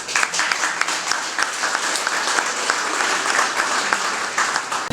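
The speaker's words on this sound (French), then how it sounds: "C'est applaudi." Loud, steady applause from a wedding congregation fills the whole stretch without pause, with scattered sharp claps standing out.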